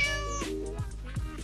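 A cat meows two or three times in quick, close succession, the calls rising and falling clearly with little else around them.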